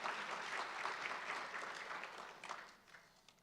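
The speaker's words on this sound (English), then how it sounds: "Give them a round of applause." An audience of real estate investors at an annual residential market review applauds, a steady wash of clapping that stays fairly even and then gradually tapers off toward the end.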